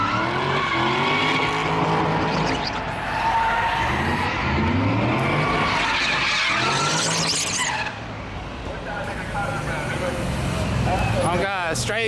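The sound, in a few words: Mustang GT drifting with tires squealing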